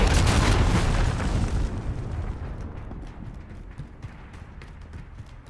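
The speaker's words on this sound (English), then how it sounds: "Enemy cruise missile incoming." A cruise missile explodes in Call of Duty: Modern Warfare, a loud, broad rumbling blast at the start that slowly decays into a long, dull roar with faint scattered debris clatter, no voices.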